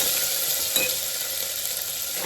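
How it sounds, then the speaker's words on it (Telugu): Green chillies and mint leaves fry in oil in a pan for Hyderabadi bagara rice, giving a steady bright sizzle with a brief stir scrape partway through, close and continuous with no talk. "సిమ్లో పెట్టుకొని వేయించుకుందామండి"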